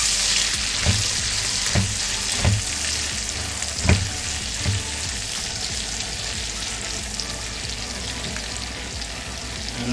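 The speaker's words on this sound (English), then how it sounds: "Give these bacons a stir." Bacon frying in a pan with steady crackling sizzle, broken by a few louder scraping knocks as the strips are stirred; close and continuous, no talking.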